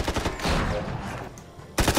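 Gunfire in the Tales from the Borderlands video game comes as quick rattling bursts of shots, loud and close, at the start and again near the end, with a rumbling lull between.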